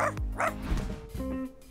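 Barks and yips from Pluto, the family's cartoon pet dog, sound close and loud. Two sharp barks open the moment, then a lower rough whimper follows.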